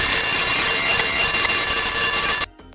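An alarm clock rings loudly in a steady, continuous electronic tone, then cuts off abruptly near the end, leaving near silence.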